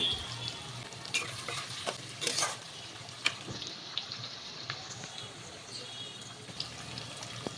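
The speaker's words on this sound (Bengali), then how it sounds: "পেঁয়াজটাকে একটু ভাজা করে নেব।" Two large chopped onions fry and crackle in a hot pan, with intermittent scraping stirs and small sizzling bursts over a steady low hiss, close and moderately quiet, with no talking.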